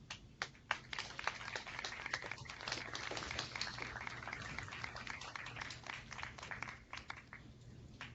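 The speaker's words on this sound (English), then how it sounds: "give him a warm round of applause" Scattered clapping from school audiences comes through open microphones, loose, uneven claps with sharp individual slaps over a faint electrical hum, fairly quiet and lasting throughout.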